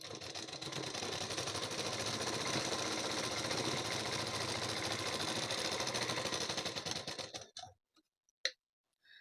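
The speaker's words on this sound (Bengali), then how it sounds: "তারপর কিন্তু বরাবর উপর দিয়ে একটি চাপ সেলাই দিয়ে দেবেন।" A sewing machine top-stitches along a blouse seam, running in a steady fast rhythmic whir for several seconds before stopping, followed by a couple of faint clicks.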